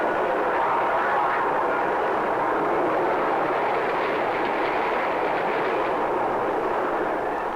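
Train rolling along a rail track, a steady broad rumble and rattle that holds loud and even throughout without a break, heard alone with no voices.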